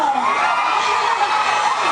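A concert audience screams and cheers loudly in a brief, sustained burst of high-pitched crowd shrieking with no pauses.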